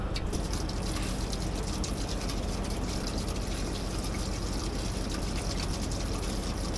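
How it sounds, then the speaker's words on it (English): Old engine oil drains steadily from a 1950 cable shovel that sat unused for over 20 years, a continuous close trickling and pouring wash that holds even throughout, with no talking. "We got oil draining though."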